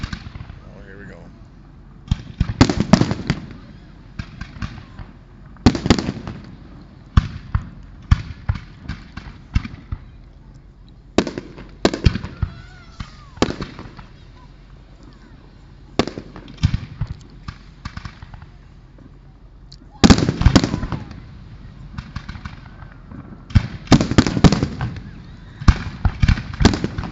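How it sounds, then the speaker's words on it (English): Golden fireworks explode over downtown Calgary in irregular clusters of sharp booms and crackling bursts, some rapid-fire, with distant rumbling between volleys and people talking at times. "Lots of golden fireworks."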